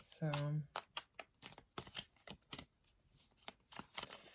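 A brief vocal sound at the start, then a quick series of crisp card flicks and slaps as a tarot deck is shuffled up close.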